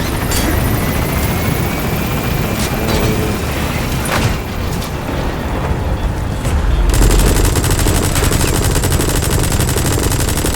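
Helicopter in the Metal Gear Solid V video game climbing away from a landing zone, a loud steady rotor drone carrying throughout with gunfire-like bursts and booms mixed in, swelling heavier in the final seconds.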